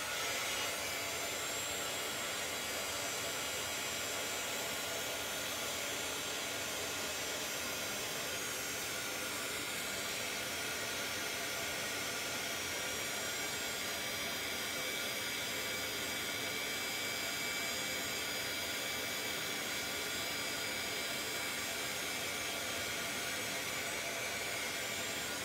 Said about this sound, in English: So I'm just gonna heat this with my heat gun